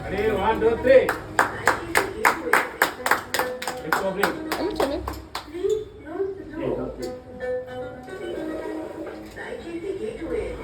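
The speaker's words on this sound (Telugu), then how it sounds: "క్లాప్స్ కొట్టే" Hands clapping in a quick, even run of about fifteen sharp claps over five seconds, close and loud, followed by talk and background voices.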